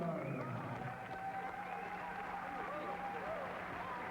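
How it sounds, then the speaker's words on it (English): Crowd applause fills the arena at a women's world super welterweight boxing bout, a sustained wash of clapping and murmur running continuously beneath a ring announcer's amplified voice. "A round of applause for his opponent, former champion Marianne Gorgeous Almagar"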